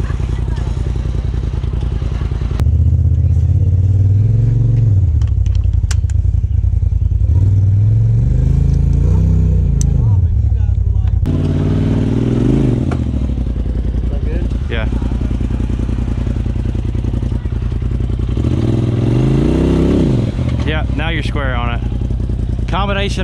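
An off-road vehicle's engine revs in surges while winching up a rocky trail, loud and close, its pitch rising and falling with throttle bursts, and people talk over it.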